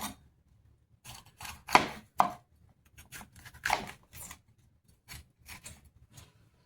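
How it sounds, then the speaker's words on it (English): A knife chops a red pepper on a board in irregular crisp strikes, some sharper and louder, separated by short quiet gaps, heard up close without talk. "I'm going to cut up a red pepper"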